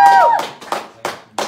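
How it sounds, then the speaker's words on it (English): Scattered hand claps from a small group at a livestream hangout in Kano, a handful of separate sharp claps spaced out over a moment after a donation is announced, close and fairly loud. "you guys be clapping"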